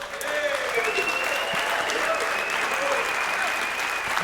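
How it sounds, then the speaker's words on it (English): A studio audience gives a standing ovation, a steady, dense wash of clapping that carries on throughout. A faint tone glides above the applause, and people talk softly in the background. "We got even some standing applause here."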